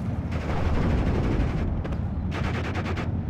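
Sustained gunfire from units in the World War II strategy game Steel Division: Normandy 44, a dense rattling of overlapping machine-gun and rifle bursts that continues steadily, then breaks into sharper separate cracks near the end.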